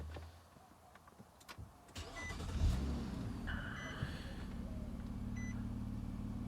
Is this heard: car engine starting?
yes